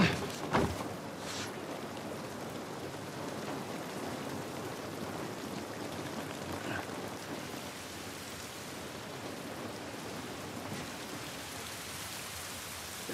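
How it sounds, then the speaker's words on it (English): Steady rain falls in The Last of Us Part I, a continuous wash of drops pattering on surfaces that stays even and moderately loud, with a few sharper knocks at the very beginning. "This rain ain't gonna do us any good."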